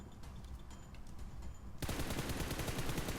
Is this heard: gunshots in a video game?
yes